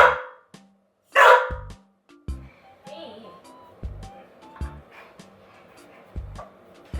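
Bean the dog gives a few sharp barks in a home, spaced out among quieter gaps with some soft whimpering and background noise.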